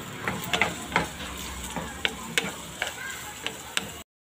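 Garlic and onion sauté in a pan for laing, a continuous sizzle with a utensil tapping and scraping in a fairly regular rhythm, then a sudden stop near the end.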